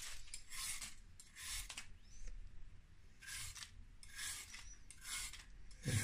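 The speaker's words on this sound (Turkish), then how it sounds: "Şöyle havuçlarımızı soyalım hemen." Carrots being peeled, each stroke a dry scraping rasp in a steady, repeated rhythm, close and fairly quiet, with brief pauses between bursts and no talking.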